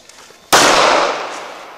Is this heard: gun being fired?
yes